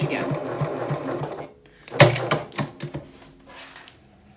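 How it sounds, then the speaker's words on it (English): A sewing machine stitches a toiletry train case near a zipper over foam, running in a steady mechanical whir for about a second and a half, pausing, then starting again in short bursts. "then I'm going to sew up towards the zipper as close as I can get without sewing into the foam"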